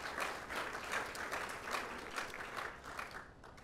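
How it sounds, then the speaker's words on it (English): Audience applause at a town hall meeting about Highway 37, a steady patter of many hands clapping at moderate volume, continuous for the whole stretch. "if we can give all of these folks a round of applause"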